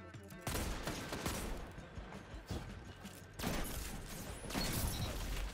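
Shotgun fire in the video game Destiny during a PvP match, several loud blasts separated by brief pauses amid game action noise.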